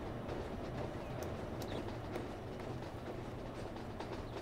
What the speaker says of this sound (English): we're having to wait for the freight train